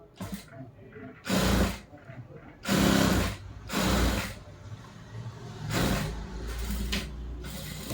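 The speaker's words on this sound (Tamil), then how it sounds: "இந்த ஓரமாக ஸ்டிச் போட்டுடலாம்." A sewing machine stitches along the turned neck edge of a girl's frock in several short loud whirring bursts separated by quiet pauses, close by.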